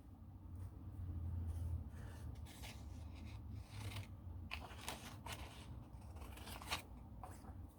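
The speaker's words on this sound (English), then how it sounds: "So maybe I'll just cut it down." Scissors snip and rasp through a paper mailer, a steady close run of crisp cuts and rustling paper lasting several seconds with no talking.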